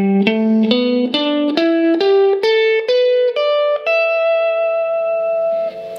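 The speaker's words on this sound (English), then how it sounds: "this version of the pentatonic scale in E is gonna sound like this" An electric guitar with effects climbs note by note through an E pentatonic scale in the G-shape position, about ten distinct ascending notes, the last one ringing out and fading.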